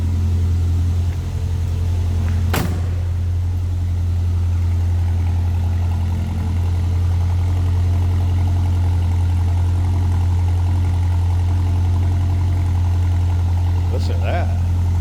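A 1977 MG MGB convertible idles steadily for the whole stretch, a low, even engine drone that holds constant, with one sharp click early on and a faint rattle near the end.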